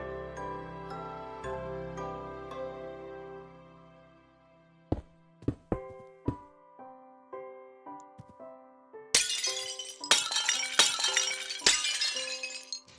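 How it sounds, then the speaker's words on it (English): Glass blocks are placed and broken in Minecraft, giving scattered clinks and taps that build into bursts of shattering glass toward the end, set over a soft musical backdrop. "I like the funny glass sounds this version make."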